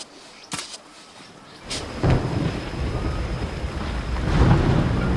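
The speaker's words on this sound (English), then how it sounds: "Here come the rain clouds." Thunder from approaching rain clouds over a river sandbar, a low rumble that builds and swells after a couple of sharp cracks, loud and spreading across the whole stretch with no talk.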